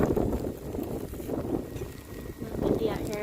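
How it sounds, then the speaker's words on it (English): Wind blowing outdoors at Sumner Lake, a steady rough gusting that rumbles against the microphone and swells and fades in waves. It is loud and close throughout. "little windy out here."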